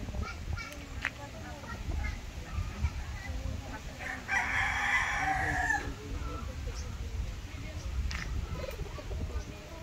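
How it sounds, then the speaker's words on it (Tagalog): A rooster crows loudly for about a second and a half, with hens clucking faintly around it over a steady outdoor murmur. "lugar na kung saan itatali yung mga manok"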